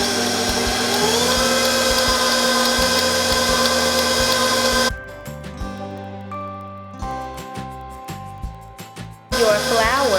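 Electric mixer whirring on low speed as banana mixture is beaten into pound cake batter, a loud steady motor drone that cuts out midway, followed by clattering and a brief restart.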